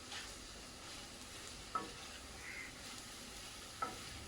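Crumbled patrode is stirred in a pan with a quiet, soft frying hiss, two sharp scrapes or taps of the spoon standing out, all faint and without speech.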